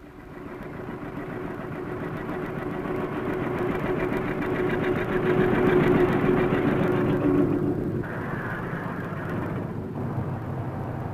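A Rolls-Royce car engine drones steadily while driving through Cheshire, a continuous mid-pitched hum that swells slightly in the middle and eases after a shift in tone near the end, with no voices.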